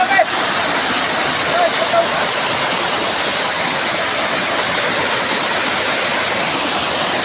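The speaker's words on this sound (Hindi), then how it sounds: "इधर पानी गिर रहा है" Water pours down a waterfall in a steady, loud broadband rush, with faint voices under the roar.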